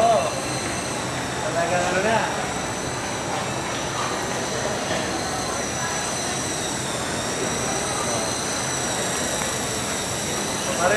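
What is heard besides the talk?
RC coaxial model helicopters flying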